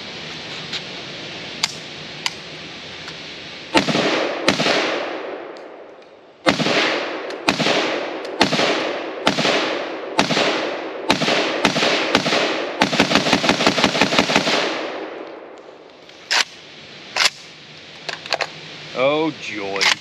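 Outdoors on a range, a Polish PAC Pioneer AKM rifle fed from a PAC magazine fires loud, sharp single shots at an irregular pace, then a rapid string of shots, followed by metallic clicks and handling noise.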